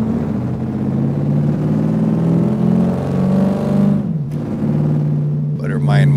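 A 1967 Chevelle SS 396 with upgrades cruises through city streets, its engine a steady low rumble with a brief dip in revs partway through before it settles again. A voice talks over the drive.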